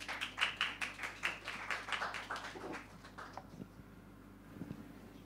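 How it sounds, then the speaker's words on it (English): Audience at a startup demo semifinal claps as the next team takes the stage, with distinct, fairly rhythmic hand claps for about three seconds that then thin out and fade into quiet room noise. "With a round of applause, of course."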